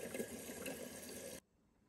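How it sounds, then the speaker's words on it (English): Water pours steadily at full flow from a Samsung French door refrigerator's dispenser right after a new filter is fitted, a loud continuous gush filling a container for over a second before stopping abruptly, with no talk. "now the water start to come out. So now it's getting the water with the full flow."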